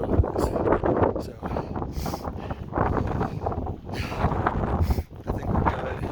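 Strong gusting wind of around 60 mph roaring across the exposed slopes of Longs Peak, loud and continuous with surging bursts that batter the microphone, no voices heard.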